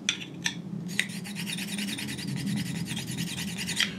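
A mineral scraped across a streak plate during a streak test makes quick rasping strokes with a few sharp scratches at the start and again near the end, close and fairly quiet.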